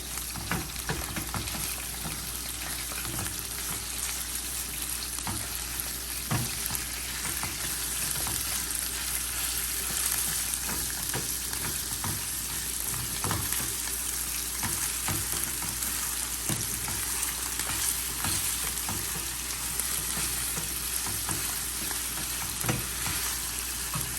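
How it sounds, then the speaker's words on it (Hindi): Minced meat frying with browned onions in a pan, a steady close sizzle with occasional stirring scrapes running throughout, no voices. "जैसे थोड़े से प्याज ब्राउन हो जाते हैं, हम इसमें ऐड करते हैं कीमा।"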